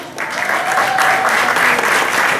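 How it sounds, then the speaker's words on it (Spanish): Applause fills a festival award ceremony in New York, a dense steady patter of many hands clapping throughout, loud and sustained from the first moment to the last. "Fuerte, fuerte el aplauso."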